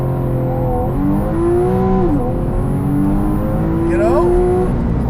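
A Porsche 911 with 350 HP and a 150 HP aftermarket hybrid system launches hard from launch control, its engine note climbing steadily in pitch with a gear change before rising again, loud and close with talk over it.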